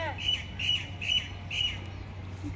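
A bird squawks four times in a quick, evenly spaced series, shrill and fairly close, over a low steady hum.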